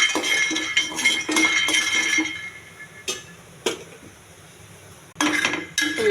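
Peanuts tossed in a dry pan over a stove rattle and clink in uneven bursts, with sharp metallic taps and scraping between quieter pauses, close and without talk.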